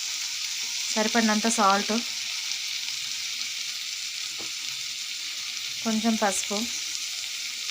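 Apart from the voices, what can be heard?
tomatoes frying with onions and green chillies in pan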